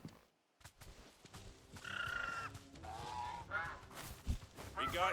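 A bird creature in Final Fantasy 16 lets out several harsh, honking, bark-like squawks in quick bursts, mixed with combat noise and a voice talking over the action.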